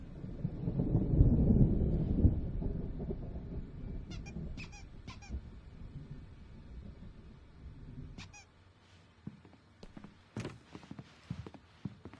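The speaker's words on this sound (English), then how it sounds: "There's a storm coming. Oh, what a storm." Thunder from an approaching storm in the video game Alan Wake, a loud rolling rumble that swells and then fades, followed by scattered quieter squeaks and clicks.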